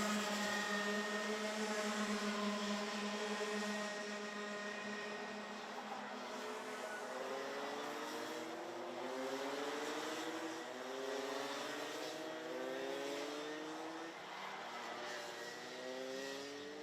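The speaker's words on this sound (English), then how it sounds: "Looks to be Winters and Eckhart as they come through out of the Schumacher chicane." Rotax Max Senior racing karts at Kerpen scream through the Schumacher chicane, several high-revving two-stroke engines overlapping and shifting pitch as they brake and accelerate past, loud and continuous.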